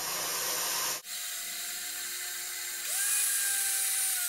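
A cheap garage-sale blender whirs as it grinds feed grains into a fine meal. Its high motor whine breaks off sharply, then resumes with tones that shift and rise as the load changes.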